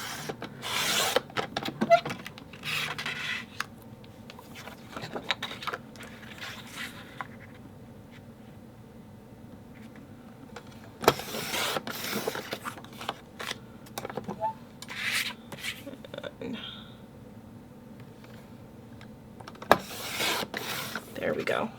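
Paper strips for a scrapbook layout being cut on a trimmer give repeated scraping, rasping strokes at close range, separated by quieter stretches of handling.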